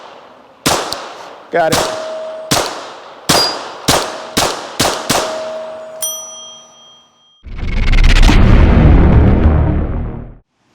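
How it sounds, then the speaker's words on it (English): A Glock 44 .22 long rifle pistol fires about ten sharp, close shots in an uneven rhythm, each crack ringing briefly, followed by a burst of loud broadband noise; a voice speaks briefly. "today we're going to go over my new Glock 44 22 long rifle"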